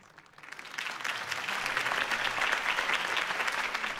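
Crowd applause at a political rally in the video game Batman: The Telltale Series, rising quickly from a quiet start into dense, sustained clapping that holds steady and fairly loud for several seconds.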